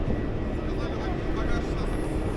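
Steady broadband roar of a parked airliner's engine on an airport apron in 40-degree heat, loud and continuous throughout with no distinct events.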